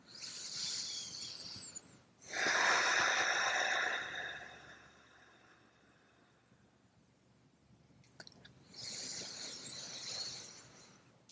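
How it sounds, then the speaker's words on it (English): Slow, gentle yoga breathing: a long airy exhale rises and fades over a couple of seconds, then quiet, then another soft breath, close and fairly faint with no talking. "So maybe exhaling a little bit longer than your inhale."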